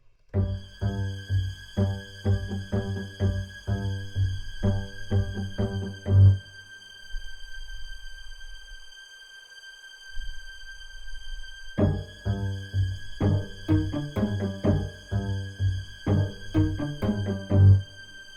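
Sustained string section chords ringing out in open fifths, a strong bowed phrase, a brief quiet low passage in the middle, then the full chords return to finish.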